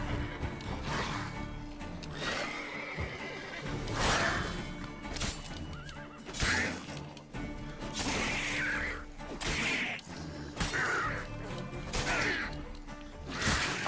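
Horse neighing and whinnying repeatedly in The Witcher 3 video game, loud whinnies recurring every couple of seconds over clip-clop hoofbeats and whooshing game effects.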